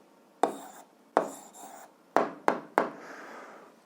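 Writing out the answer to an 8th-grade algebra exercise: five crisp, separate pen strokes, each a sharp scratch fading quickly, spaced irregularly over a few seconds in a quiet room.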